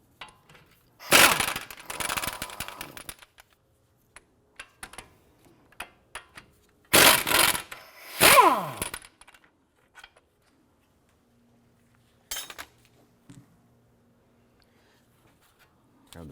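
A 17mm socket wrench loosening the caliper bracket bolts on the front brake of a 2004-2008 Acura TL, two bursts of sharp ratcheting clicks and a cracking break-loose, separated by quiet stretches with a few faint taps.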